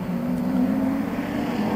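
Race cars from the 1993 Sandown 500 motor race run along the track, a steady droning engine roar that holds level throughout, fairly loud and continuous.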